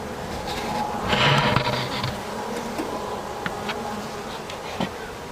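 Honey bees drone in a dense, steady hum around two beehives being smoked during a swarm and nuc inspection, with a louder swell early on and small knocks of equipment over the continuous buzzing.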